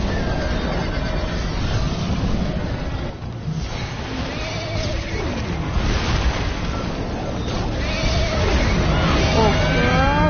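Horse neighs and galloping hooves in Minecraft Story Mode, a busy loud chase with rushing wind-like noise throughout, several whinnies rising and falling, and a few voice-like sounds mixed in.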